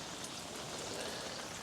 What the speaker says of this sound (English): it's raining, so it's going to be wet